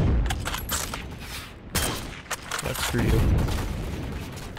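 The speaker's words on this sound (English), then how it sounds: "Someone shooting at me with an LMG?" Bursts of LMG gunfire in the video game Heroes & Generals, rapid crackling volleys with a few sharper booms, mixed with loud game noise while a voice talks over it.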